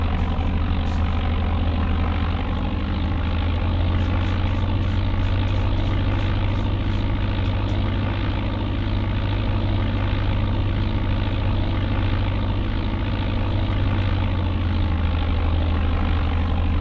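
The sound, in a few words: Piper PA-23 engine on takeoff, video game Flight Simulator 95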